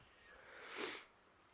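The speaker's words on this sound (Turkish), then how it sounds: "Burnumu çekip duruyorum." A single short nasal sniff from someone with a blocked, congested nose after coughing, quiet and close, alone in a still room.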